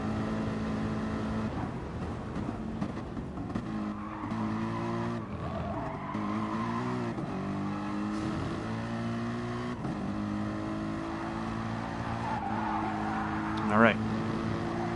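A race car in a racing video game barrels down the back straight, its engine droning steadily and shifting pitch through gears, with a brief tire squeal near the end, under continuous commentary.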